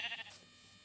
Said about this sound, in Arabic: لقيت خرفان هنا واحنا محتاجين صغير